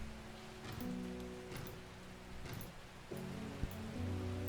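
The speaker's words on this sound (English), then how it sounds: "It's another rainy day." Rain in the video game Strange Horticulture, a steady soft hiss of falling rain with gentle spatters, joined by low musical tones from the game's background music.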